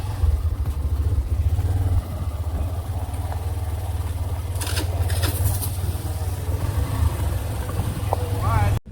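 A vehicle engine drones steadily while driving along a muddy, waterlogged forest track on the way to a waterfall, a close low hum with brief splashy bursts midway.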